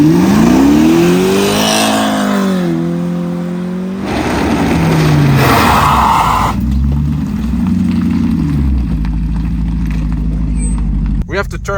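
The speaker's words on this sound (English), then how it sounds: "The sound of the engine was so tough." An inexpensive car's engine revs and climbs through gears while driving, loud and close, with rising and falling pitch sweeps, brief shifts and steady road roar, and a voice talking over parts of it.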